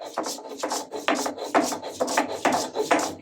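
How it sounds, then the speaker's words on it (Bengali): Red green chilies are ground by hand on a grinding stone, giving a rhythmic series of close, scraping rubs, about a dozen strokes in quick succession. "এখন হচ্ছে প্রথমে হচ্ছে আমি এই যে একটা কাঁচামরিচ বেটে নিব, লাল কাঁচামরিচ"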